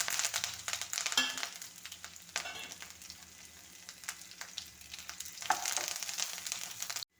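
Ginger, garlic, onion and curry leaves sizzling in hot oil in a pan, a steady close crackle with bursts of sharper spitting and a few stirring clatters, no talk.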